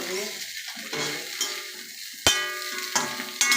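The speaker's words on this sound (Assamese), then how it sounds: "এতিয়া হিলাই আছোঁ। হিলাই থাকিব, নহ'লে তলত জ্বলি যাব।" Fish roe frying in a pan hisses steadily while a utensil stirs and scrapes, with a few sharper clinks against the pan.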